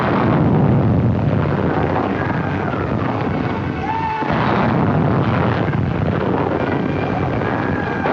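Rockets from a 1944 wartime beach assault explode along the shore in a dense, continuous roar of blasts and rumbling, with aircraft-like drone and a brief whistling tone over heavy low-end noise throughout.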